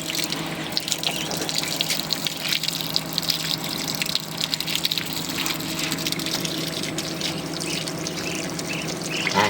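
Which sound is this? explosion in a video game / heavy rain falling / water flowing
water flowing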